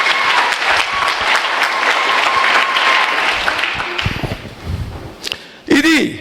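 Church congregation at a worship service clapping and cheering, a loud dense burst that fades after a few seconds into scattered voices and a short whoop near the end.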